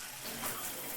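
A shower runs with hot water at good pressure, a steady broadband hiss of spray close by with no talk.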